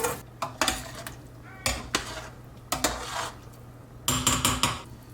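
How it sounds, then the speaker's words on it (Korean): Rice cakes for tteokguk drop into a pot with a series of sharp clattering knocks and scrapes, several separate bursts and then a quick cluster near the end, close and fairly loud, with no talking. "자, 이제 떡을 넣어볼까요?"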